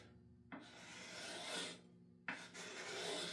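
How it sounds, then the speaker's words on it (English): A Mora knife blade scrapes a Stanley axe head in two long, steady rasping strokes, close and fairly quiet, with a brief pause between them and no talk. "You can just as easily grab your Mora and scrape her this way."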